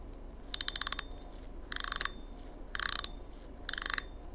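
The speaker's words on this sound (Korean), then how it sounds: "드랙 소리 한번 들려드릴게요" Rapid mechanical clicking from the drag of a Shimano Activecast spinning reel, heard in four short bursts with pauses between, crisp and close.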